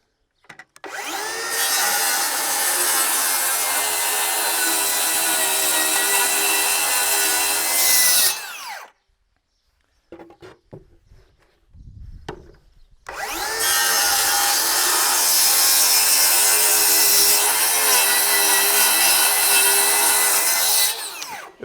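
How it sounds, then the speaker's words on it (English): A DeWalt circular saw rips through a 3/4 inch plywood sheet in two long, loud, steady cuts, the blade whining under load for about eight seconds each. A short break between them holds only faint knocks and handling noise. "Let's rip with the Dewalt."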